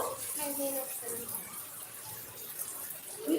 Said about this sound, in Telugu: నీళ్ళు చూడండి ఎలా వచ్చేస్తుందో